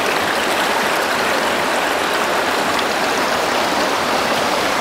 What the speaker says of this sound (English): The river's still a bit too high.